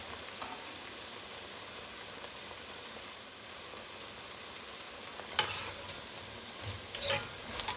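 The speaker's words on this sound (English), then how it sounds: "Give it a stir." Stirring minced garlic and poultry seasoning into vegetables and butter in a pot for a rotisserie chicken stew, a steady faint sizzle with a couple of brief louder scrapes near the end.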